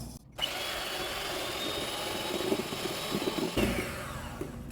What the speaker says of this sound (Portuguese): Agora nós vamos bater. Você usa uma batedeira que você tiver aí. Vou bater primeiro as claras.